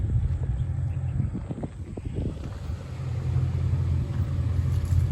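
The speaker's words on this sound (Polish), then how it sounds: "Zobaczcie, po jakich drogach porusza się nasz Mustang." A Ford Mustang sports car driving over a rough dirt road in Senegal or Gambia, with a steady low engine and road rumble, wind buffeting and occasional bumps and rattles, close and continuous.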